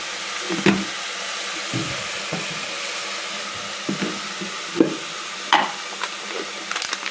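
Tomatoes cooking down in a pan for tomato rice, a soft steady sizzle broken by occasional scraping stirs and clinks of a spoon.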